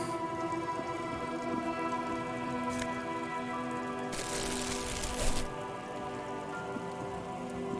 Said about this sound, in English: Suddenly raining.